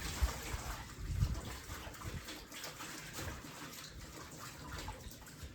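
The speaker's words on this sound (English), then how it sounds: "these are, of course, the kale. I'm going to wash them up." Kale is rinsed under a running kitchen tap, with a continuous close splash and trickle of water and small swells as the leaves are moved.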